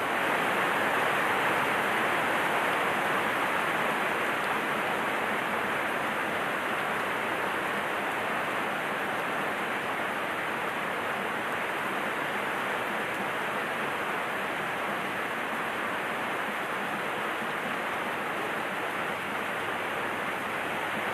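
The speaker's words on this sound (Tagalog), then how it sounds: "Malakas yung ulan. Sa bagyong krising." Heavy typhoon rain pours down steadily and loudly, a dense, unbroken roar of downpour that fills the whole stretch with no voices.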